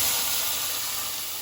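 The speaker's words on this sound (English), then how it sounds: "You can hear that sizzle again." Burger patties sear in a hot pan in a home kitchen, giving a loud, steady, close sizzle that fills the whole moment with broadband hiss and no voices.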